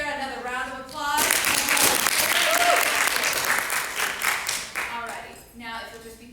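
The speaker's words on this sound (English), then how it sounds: "Let's give Sara another round of applause." A theater audience at a college 24-hour play festival applauds an actress, loud dense clapping that swells in suddenly after a brief voice, with talking heard at both ends.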